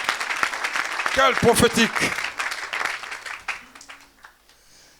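A church congregation at a Saturday worship service applauds and cheers loudly, with broadband clapping and raised voices under someone speaking French, the noise fading toward the end.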